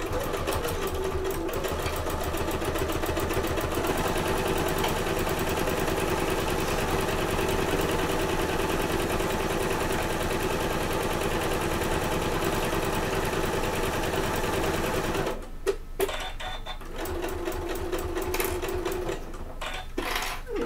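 A sewing machine top stitches a bag at a 3.5 stitch length, running in a long loud steady buzz for about fifteen seconds, then stopping and restarting in short bursts.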